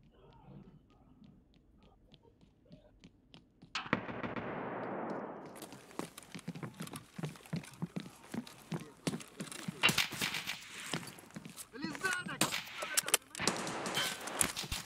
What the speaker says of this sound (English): Lot of people running loud guns.